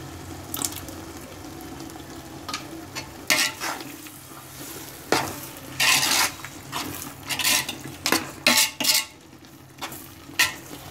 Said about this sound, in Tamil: மசாலா நல்லா வதங்கிடுச்சு